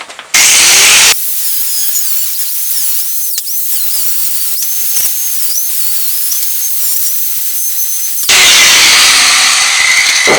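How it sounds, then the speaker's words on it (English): An angle grinder with a thin cutoff wheel cuts into an IBC tote, a loud high whine that surges on, holds steady with wavering pitch for several seconds, then drops back to a rougher roar. "Take my grinder"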